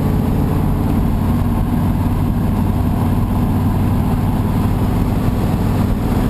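A 1963 Chevrolet Corvette engine runs steadily at about 2,000 RPM in fourth gear, a loud, continuous low droning hum with no breaks and no voices.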